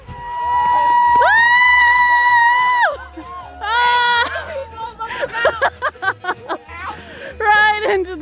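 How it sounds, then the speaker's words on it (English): A family on an outdoor hill cheers as Mom takes her turn sliding down: close, loud shouts and whoops, with one long sustained yell and bursts of excited voices and chatter. "Everyone's cheering."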